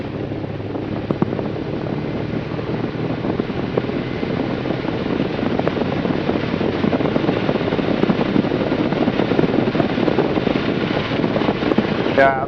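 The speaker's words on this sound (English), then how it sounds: "I'm going to do what's called a run up and check all the systems." Small aircraft with a constant speed propeller doing an engine run-up before flight, a steady loud droning engine roar filling the cabin, with a voice talking faintly underneath.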